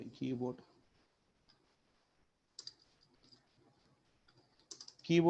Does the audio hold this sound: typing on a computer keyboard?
yes